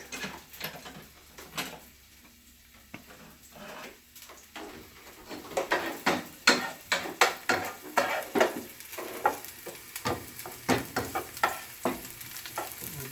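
Minced garlic frying in a pan gives a steady crackling sizzle, stirred with frequent utensil scrapes and clacks that grow louder and busier partway through, with no talking.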